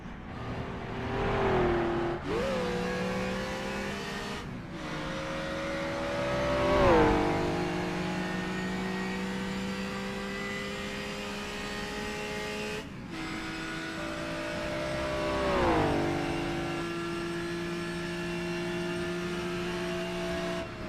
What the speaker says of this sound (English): The car absolutely pinned, maxed out, doing as much as it possibly can.